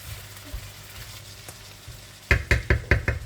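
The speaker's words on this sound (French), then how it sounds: "Et je laisse cuire tout ça et de temps en temps, je remue." Food cooks quietly in a pan for an iftar meal, a low simmer that gives way to a run of five sharp scraping knocks as the contents are stirred.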